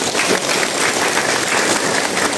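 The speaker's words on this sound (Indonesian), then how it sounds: "Tepuk tangan untuk kita semua" Sustained, dense applause from a large crowd at an Islamic religious gathering in Indonesia, a steady wash of many hands clapping without pause.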